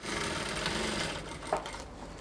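A sewing machine runs in a steady, continuous whir while stitching a facing around the neckline of a dress, close and loud with no voices.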